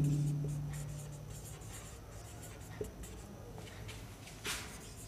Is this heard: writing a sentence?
yes